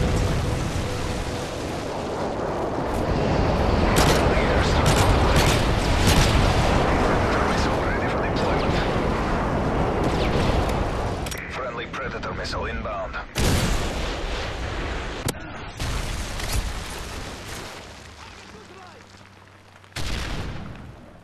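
Predator missile strike in a Call of Duty–style shooter on a village map, a sustained roaring barrage of explosions and gunfire that swells, then breaks into sharp separate blasts, with voices talking over it.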